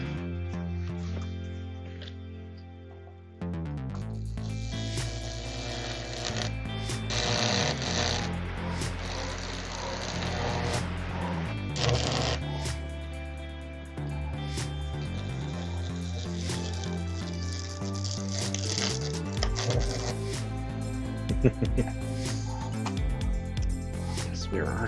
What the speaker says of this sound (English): Yes, we are arc welding with wood.